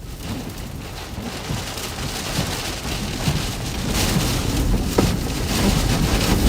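Heavy rain pours steadily during a strong tornado storm in South Dakota, a dense, continuous hiss with low rumbling wind, growing slightly louder toward the end, with one brief sharp knock.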